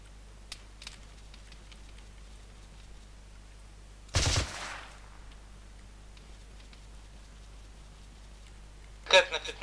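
Sparse gunfire from a hill at night on Altis in the video game ARMA 3, with a loud close burst in the middle and another at the end, distant faint shots between, over quiet low rumble and occasional talk.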